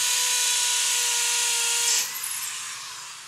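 A power drill whirs steadily at high speed for about two seconds, then stops abruptly and winds down; close and loud, no voices.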